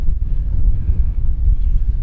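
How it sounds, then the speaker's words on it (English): Steady low wind roars and buffets across the microphone on the Caribbean island of Culebra, a continuous heavy rumble lasting the whole moment with no voices. "it's a little windy"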